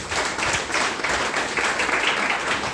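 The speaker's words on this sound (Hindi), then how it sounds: "हम चाहते हैं हमारे सीनियर के लिए जोरदार ताली हो जाए" An audience at a small gathering promoting DXN products gives a round of applause for a senior member: moderately loud, uneven clapping with rippling bursts, no speech.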